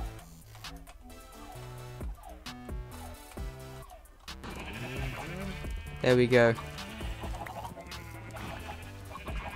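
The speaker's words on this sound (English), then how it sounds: "It is the chicken culling." Chickens are killed in a crowded Minecraft pen, with repeated clucks and squawks and a cluster of louder, sharper cries near the end, under a voice talking briefly.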